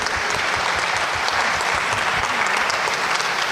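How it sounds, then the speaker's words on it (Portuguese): Church congregation standing to give warm applause to visiting teachers, dense continuous clapping from many hands, close and fairly loud throughout. "queria que colocasse de pé, com a calorosa salva de palmas dos irmãos"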